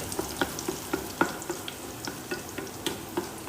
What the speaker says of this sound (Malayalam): കടുക് പൊട്ടിച്ച് കുറച്ച് ജീരകവും പിന്നെ വറ്റൽമുളക്, കറിവേപ്പില, വെളുത്തുള്ളി.